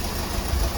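A Ford Thunderbird engine idles steadily close by, with a low rumbling note and slight ticking from a small exhaust leak, running alone with no talk.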